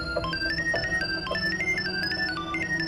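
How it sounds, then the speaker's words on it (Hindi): A phone ringing with a melodic ringtone, a repeating sequence of stepped electronic tones over low background noise, steady and with no talk. "फोन बज रहा है।"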